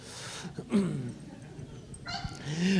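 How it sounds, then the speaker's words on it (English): A guide dog lets out a couple of short whimpering yips and soft whines, close and moderately loud, with brief pauses between the calls. "with me always is my guide dog Seymour."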